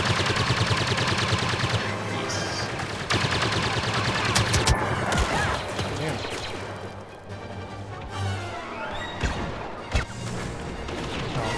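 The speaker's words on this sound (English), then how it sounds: "who's shooting at us?" Dense, overlapping blaster fire in the video game Star Wars Battlefront, with heavy shots, crashes and booms that stay loud throughout a chaotic firefight.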